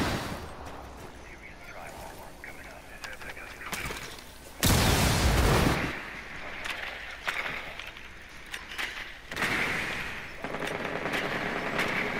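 Sprayed gunfire in Rainbow Six Siege, rapid automatic bursts that surge loudly mid-way amid clattering game noise, with players talking over it.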